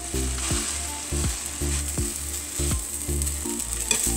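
Burger buns toasting in butter in a pan give a loud, continuous close sizzle with a rhythmic low thudding pulse roughly every half second throughout.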